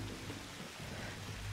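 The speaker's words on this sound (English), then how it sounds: "Because it's raining and cold." Steady rain falls in the Tomb Raider video game, a dense, even hiss of drops with a low rumble beneath, heard alone in a short burst.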